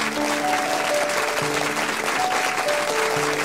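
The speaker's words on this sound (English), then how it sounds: "The employees clap" Office employees clap together at an Employee of the Month award ceremony, a steady sustained round of applause with a soft tonal musical bed beneath it.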